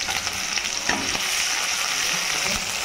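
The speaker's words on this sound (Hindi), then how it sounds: "प्याज है वो फ्राई हो रहा है" Onion and cut chilli fry in hot oil in a pot, giving an unbroken, close hiss and crackle with faint stirring bumps and occasional sharper pops. No one speaks over it.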